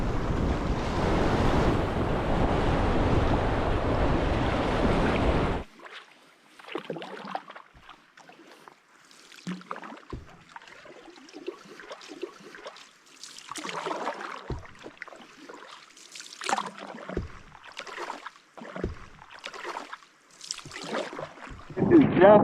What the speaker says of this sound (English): the river drops continually with numerous swifts, class 1s and 2 rapids. There are huge waves.